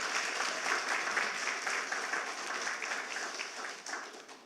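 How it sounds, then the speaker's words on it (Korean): A church congregation claps in encouragement for the choir during a Sunday worship service, a steady, fairly loud patter of many hands that carries evenly throughout and fades slightly at the end. "우리 찬양대 열심히 하라고 격려의 박수 한번 하겠습니다."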